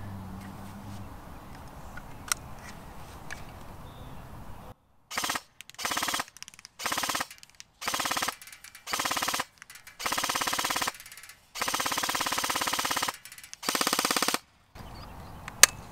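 Airsoft AKS-74 rifle with a Bakelite-coloured magazine firing several loud full-auto bursts of rapid mechanical clatter, separated by short silent pauses, with a final single shot at the end.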